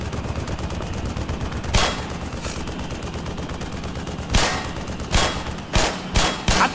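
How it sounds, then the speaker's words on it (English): Gunfire in the game Black Mesa: a steady low rattle of continuous fire punctuated by several loud, sharp shots, close and prominent with no talk. "I'm shooting this damn thing."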